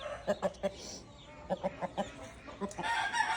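Fighting roosters, including a Brahma, cluck in short, sharp bursts with a few agitated squawks, the calls arriving in quick clusters before a louder, scuffling flurry near the end.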